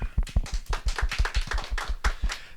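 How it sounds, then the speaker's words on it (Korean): An audience of children claps for a lecturer at the end of a talk, a dense burst of applause that holds steady and close for a few seconds with no voices over it. "강의해주신 우리 권장희 소장님께 큰 박수로 감사의 뜻을 전하겠습니다"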